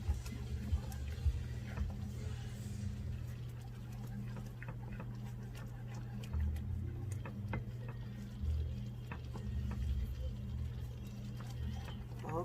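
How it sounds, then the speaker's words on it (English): Country style gravy being whisked in a pan, a steady run of quick clicking, scraping whisk strokes against the metal, close and moderately loud over a low constant hum. "So you just want to take this whisk. With gravy, whisk is your best friend."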